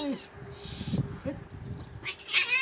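A couple of house cats meow and whine at each other, short plaintive calls rising over low household noise, with a person talking in between.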